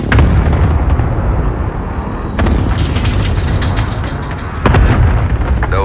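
Heavy airstrike explosions in the video game Warzone rumble on without a break, loud and close, with several sharp bursts landing on top of the deep roar.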